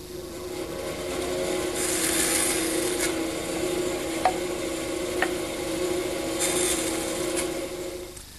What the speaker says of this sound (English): Now it's to the bandsaw for the edges.